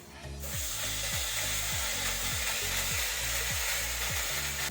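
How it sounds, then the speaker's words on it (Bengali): A ground paste of ginger, cumin and chili drops into oil left from frying bata fish, bursting into a sudden loud, steady sizzle that fills the clip with close, hissing crackle. "এই মাছ ভেজে তেল বেঁচে গেছে তেলের মধ্যেই দিয়ে দিব মশলা"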